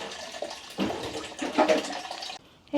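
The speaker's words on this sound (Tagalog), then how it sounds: "May tubig naman yung bidet." Water gushes from a bidet in a campsite restroom with a short hissing, splashing burst that cuts off near the end. The sound is close and moderately loud.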